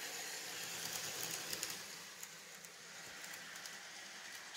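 A model train runs on a Southern Pacific layout modeled on the Oregon City to Willamette Valley line, a steady rumbling roll with faint light clicks over the track, continuous and fairly close throughout.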